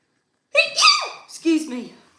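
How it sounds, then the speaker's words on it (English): A single loud sneeze bursts out in a quiet room, with a sharp intake before the explosive release and a short trailing breath afterward. "I'm going to sneeze"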